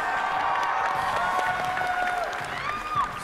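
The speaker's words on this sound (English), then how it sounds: "How about a round of applause for our first 2 teams," Steady crowd applause and cheering with whistles and whoops throughout, loud and continuous, at the Nintendo World Championships 2015.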